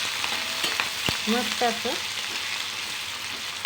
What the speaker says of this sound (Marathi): फ्राय करून घ्यायचं फुल गॅसवरती.